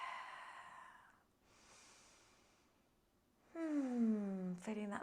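A slow, soft breath drawn and released through the middle of a hatha yoga flow, with a calm voice speaking before and after it.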